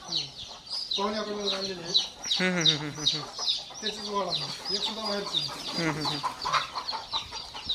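Desi country chickens on a farm, several hens clucking and squawking in overlapping bursts close by, with farm background noise and a faint voice underneath.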